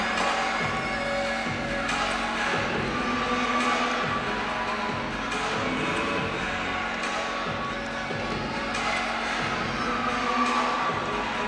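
Cheerleaders and spectators cheering at an NC State college gymnastics meet, a continuous loud crowd roar with shouts and rhythmic claps, commentary talk running underneath.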